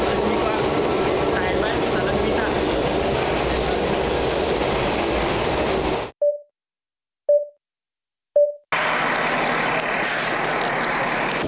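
A Pyongyang metro train rumbles steadily with a loud, continuous roar, then cuts to silence broken by three short electronic beeps before the running noise returns.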